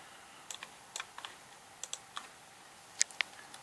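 Laptop keyboard in use, Alt+Tab and Windows+Tab presses, heard as a scattering of quick, sharp clicks in small clusters, close but fairly quiet, with no talk.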